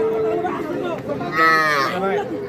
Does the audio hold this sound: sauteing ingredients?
no